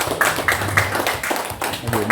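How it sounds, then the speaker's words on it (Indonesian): A small group claps at a school teacher-training session, a short burst of uneven, close handclaps with quick irregular beats, and voices murmur faintly underneath. "Oke, kita beri tepuk tangan."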